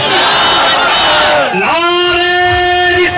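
A large crowd at a religious gathering for Syed Aminul Qadri roars a loud, sustained chanted slogan in unison, voices rising and swelling together in a drawn-out group cry that fills the space.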